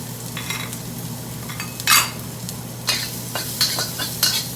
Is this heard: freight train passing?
no